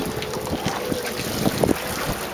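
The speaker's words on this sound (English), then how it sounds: "Alright, engine's going" A fishing charter boat's engine drones on the open water off the Gold Coast, a steady rumble mixed with wind buffeting and splashing.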